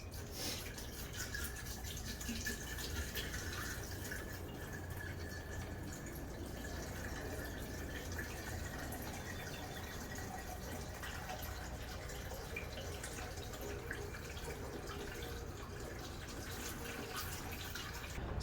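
Coolant drips from a leaking replacement Mishimoto radiator on a Mustang, heard as faint, steady trickling and dripping water under a low hiss of background noise, with no talking.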